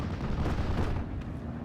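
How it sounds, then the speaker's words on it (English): Dense, sustained rumble of artillery and mortar fire from a World War II strategy game battle with a big 4.2-inch mortar team, continuous low booming blasts filling the whole stretch at steady loudness. "And we also got a big mortar team"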